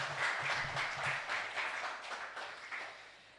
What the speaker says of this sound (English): Let's put our hands together and give him a warm applause.